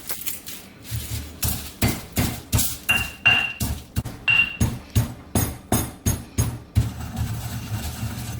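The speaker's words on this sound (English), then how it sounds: "as I crush the pimento berries, what I'm going to do is grab some of that bay leaf, crush it in there" Pimento berries and bay leaf are pounded in a mortar with a pestle, giving a steady series of sharp, hard knocks roughly twice a second, close and clear with no talking.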